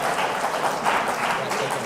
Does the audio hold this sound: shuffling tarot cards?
no